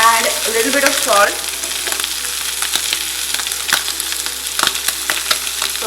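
Goat liver sizzles and crackles steadily in a hot pan, loud and close, with stirring scrapes and occasional sharp pops throughout.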